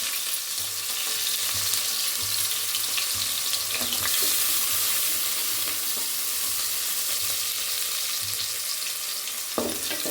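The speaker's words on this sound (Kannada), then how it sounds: "ಇವಾಗ ನೋಡಿ, ಈರುಳ್ಳಿನ ಹಾಕೋಣ." Onions dropped into hot oil with mustard seeds over a high flame, giving a steady, loud, broadband sizzle that holds throughout with brief clinks, no talking.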